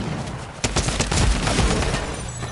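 Gunshots in a shooter video game, a rapid, loud burst of close shots crackling in quick succession over a dense, noisy game background.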